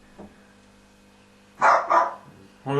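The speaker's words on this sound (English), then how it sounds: "Even the dog in the background's concerned me." A dog barks a few times in the background, short separated woofs after a faint yelp, otherwise a quiet room.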